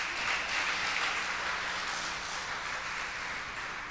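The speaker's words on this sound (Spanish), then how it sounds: "Dele un aplauso al Señor si se anima" A church congregation applauds the Lord, a fairly faint, dense wash of clapping that holds steady and then gradually tapers off, with no talk over it.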